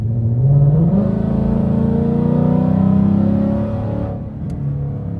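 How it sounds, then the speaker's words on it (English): An E85-tuned 10-speed Ford Mustang with a brand-new engine accelerating from inside, its loud engine note climbing through a gear change and holding a rising drone before easing off. "we are experiencing E85 tune 10-speed Mustang, brand new motor for the first time"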